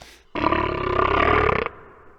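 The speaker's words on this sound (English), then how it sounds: "that sound, slowed down, sounds like a giant burp" A slowed-down Donald Duck voice becomes a deep, rumbling giant burp, one sustained roar-like belch that starts abruptly, holds for over a second and cuts off, with no other sound around it.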